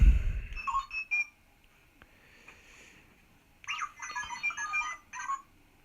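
Electronic chirps and warbling beeps from a 1/6th-scale Hot Toys R2-D2 robot, one burst at the start and a longer burbling run later, separated by near silence.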